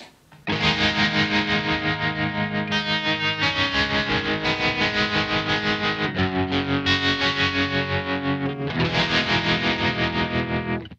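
Guitar through a Blackstar ID:Core V3 Stereo 40 amplifier with tremolo and distortion, sustained chords pulsing in a fast, even throb, loud and continuous with no voices.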